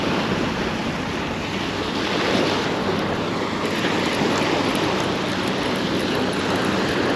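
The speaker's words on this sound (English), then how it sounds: "it's super choppy, super wavy out here today" Choppy ocean surf on a warm day, a steady broadband wash of waves and wind rolling continuously without pause, fairly loud and close, with no voices.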